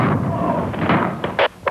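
The SHARP hydrogen gas gun fires a shot, a loud, deep, booming roar with a rumbling tail that lasts over a second, followed by a few short bursts of noise.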